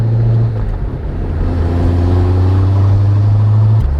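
A Corvette C7 Z06 V8 engine drones steadily as the car drives on a track, a loud, continuous low rumble with a slight pitch rise and a brief dip near the end.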